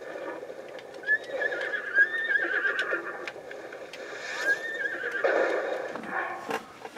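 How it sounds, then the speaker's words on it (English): A horse in Breath of the Wild neighs and whinnies several times against a steady game background, with clip-clop hooves underneath. Short, shrill calls rise and fall at moderate volume. "Oh, hey, you got a horse too"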